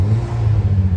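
A Ford Fiesta ST rally build with an aftermarket exhaust gives a short, deep engine drone up close, a low rumbling note that wavers slightly over about a second.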